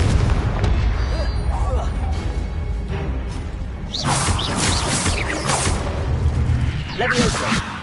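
Booming blasts from a fire-type blasting spell in a Hogwarts-set video game ring out over steady rumbling game noise, with whooshing effects and a heavier cluster of explosions in the second half.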